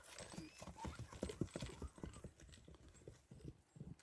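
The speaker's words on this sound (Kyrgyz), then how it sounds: "атты кыска гана аралыкка чабып көрөбүз" A bay horse gallops over a short distance, its hooves making quick, rhythmic clip-clop beats that sound faint and somewhat distant.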